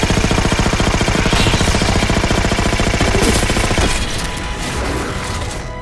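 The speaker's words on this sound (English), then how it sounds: "The AR and SAW sound badass" Relentless automatic fire from the Halo 4 assault rifle and SAW, rapid close bursts in a steady hammering rhythm that eases slightly toward the end, with no talk over it.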